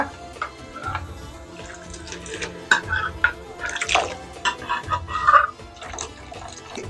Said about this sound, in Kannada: ಇದು ಕುಕ್ಕರ್ ಬಾಂಡಿ ಒಳಗೆ ನೀರು ಹಾಕೊಂಡಿನ್ರಲ್ಲ ಅದನ್ನ ಹಾಕೋತಿ ನೋಡ್ರಿ ಈಗ